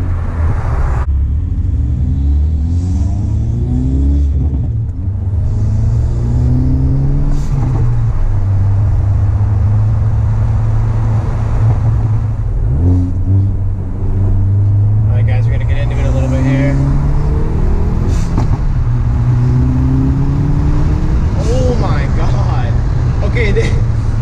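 A Hyundai Veloster N running an SXTH Element ECU tune accelerates through traffic, its engine droning loud and close in rising and falling pulls through the gears, with road rumble beneath throughout.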